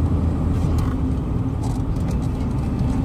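A 1987 Volvo 740 GL 2.3 cruising on a highway, heard from inside as a constant low engine drone mixed with road and wind rumble, steady throughout.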